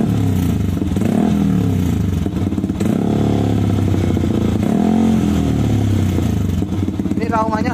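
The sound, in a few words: motorcycle with aftermarket DOS exhaust revving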